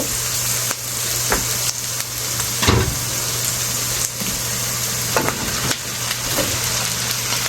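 Sliced bitter gourd fries in a pan with a steady, fairly loud sizzle. Scattered knocks and scrapes come from stirring, one heavier thud near the middle, and no voices.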